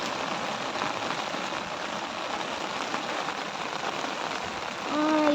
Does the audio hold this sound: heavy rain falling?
yes